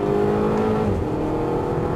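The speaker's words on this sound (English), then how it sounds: "it's almost just like you're playing tunes with the exhaust" Exhaust of a 2007 Audi TT with an S-tronic dual-clutch gearbox revving loudly and steadily up close, the engine note holding high and full without a break and no voices over it.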